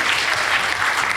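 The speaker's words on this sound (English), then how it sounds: "Please give them a round of applause." An audience claps for a secondary school team at a debate contest, a dense, even burst of applause filling the room from start to end with no pauses.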